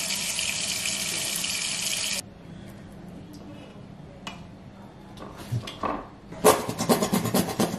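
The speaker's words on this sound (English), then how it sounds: "I need to pour cold water in here while I'm pouring warm water from that into it" Water pours steadily into a kitchen sink, a loud, close rush that cuts off after about two seconds and gives way to quieter clatter and splashing.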